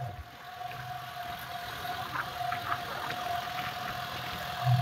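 A John Deere 5205 Power Plus tractor pulling a harrow, its engine running with a steady mid-pitched drone and faint knocking, fairly close and continuous, with no talk over it.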